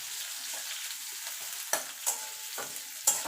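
Onions fry in a pan for masoor lentil dal with a constant bright sizzle, as a utensil stirs and scrapes in several sharp strokes, close and with no talk.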